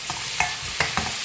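Stirring onions with salt and turmeric in a pan for murungai ilai varai, with a few distinct scraping knocks of a spoon against the pan over a soft, steady frying background.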